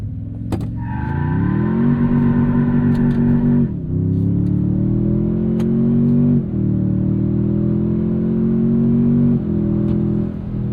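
A tuned 466 hp twin-turbo 2026 Toyota Tundra TRD Pro launches hard from a brake boost, its engine note climbing steadily through several gear changes, loud and close throughout.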